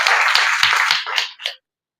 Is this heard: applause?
yes